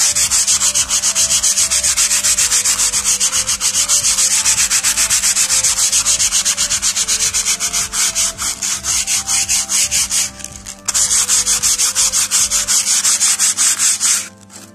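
Steady, rapid rasping of a fret saw cutting through old pine wood, continuous and close, with a brief pause near the end before the strokes resume.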